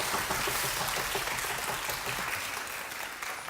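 Dense, sustained applause from an audience at a 2018 children's composition recital at the Uijeongbu Arts Center, loud and steady throughout before easing slightly toward the end.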